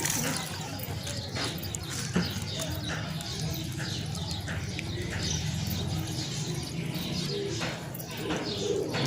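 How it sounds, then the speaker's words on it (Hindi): Pigeons pecking at feed with soft cooing calls scattered through a steady, busy background, with occasional brief louder sounds and some nearby voices. "ये कबूतरों को मैं देखें अब खा भी रहे हैं, बहुत शौक़ से खाते हैं"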